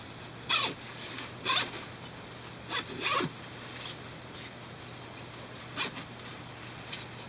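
Zipper on a hammock pod system bag extender fitted under an Eno hammock, several short separate zip pulls heard close up in a quiet space, each a brief ripping burst with pauses between them.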